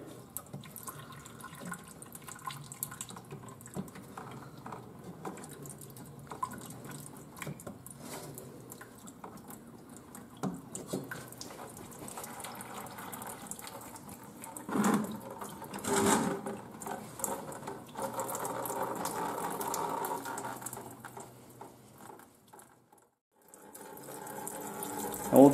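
Engine coolant from a John Deere tractor drains slowly through an opened valve, a soft trickling and splattering flow that swells midway, then briefly drops off before resuming, faint and close with no talk.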